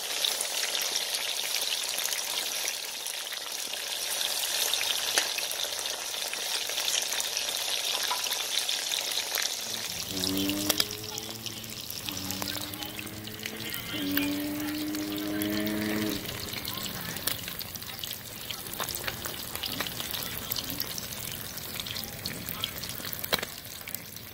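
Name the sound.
fish frying in a pan, Jamaican escovitch fish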